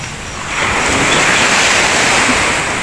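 Surf and strong wind at Kapusan Beach in Iloilo roar as a continuous broadband wash, swelling after the first half second and staying loud and steady throughout.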